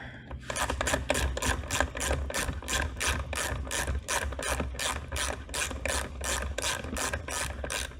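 A ratchet backs out Loctite-secured screws on an Okai Neon Pro scooter during battery removal, a rapid, steady run of close, sharp clicks continuing without pause, with no talk.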